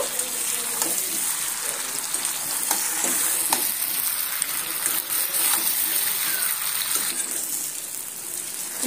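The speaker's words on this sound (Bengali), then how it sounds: "এইভাবে আরো মিনিট 3 সময় নিয়ে ভেজে নেব" Potatoes and eggs fry in a spice masala for biryani, a close, steady sizzle with occasional scraping stirs running without a break.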